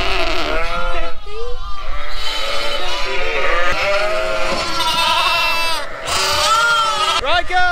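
Sheep and lambs at lambing time in a sunny field, bleating loudly and continuously in overlapping calls, some high and wavering, close by.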